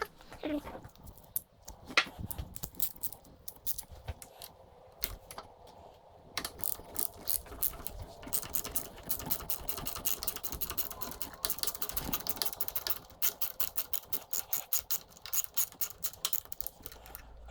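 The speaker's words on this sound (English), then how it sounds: "step 2 is to remove this bolt here. This is a 6mm socket." Ratchet wrench with a 6mm socket clicking as it loosens a rearset bolt on a 2022 Ducati Panigale V4S motorcycle, close and crisp, with bursts of rapid ratcheting clicks that speed up into a steady fast rhythm toward the end.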